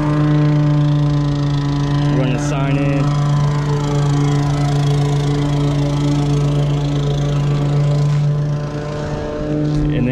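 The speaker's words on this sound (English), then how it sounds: "Brother's mowing" A lawn mower runs nearby with a steady, loud engine drone that continues unbroken throughout, while a person talks over it.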